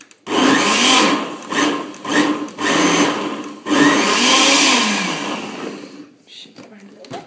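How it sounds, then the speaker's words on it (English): A kitchen blender purees pumpkin soup, running loud and close in long continuous bursts with brief pauses between pulses before it winds down. "So we'll blend this to a fine puree, hopefully."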